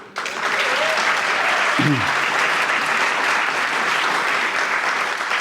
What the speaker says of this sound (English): to the volunteers who put this together, a huge round of applause